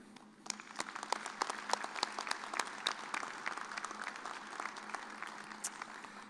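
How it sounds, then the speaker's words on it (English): A full round of applause from families and guests at a Fall 2024 College of Health and Human Sciences commencement: dense, continuous clapping from a large crowd that swells quickly and holds steady in a big reverberant hall. "Will you join me in a round of applause for them?"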